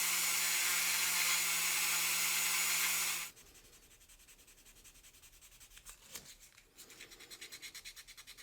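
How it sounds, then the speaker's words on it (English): Sanding a Hot Wheels toy car body to remove raised police details and lettering: loud, steady scratchy rubbing for about three seconds, then quieter, intermittent short scrapes and rubs close by. "so I'm just going to keep on sanding that down."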